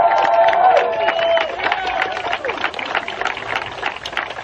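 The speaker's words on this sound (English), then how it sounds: "So everyone, please give a big round of applause to Garrett." A crowd at a live street protest rally claps and cheers for an introduced speaker, a dense wash of applause with voices mixed in that tapers slightly.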